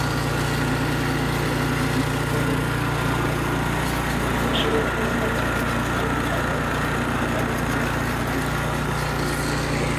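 DR SP30 30-inch walk-behind lawn mower with its engine running at a steady, even drone, close and constant for the whole stretch, with no speech over it.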